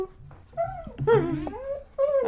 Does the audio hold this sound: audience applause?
no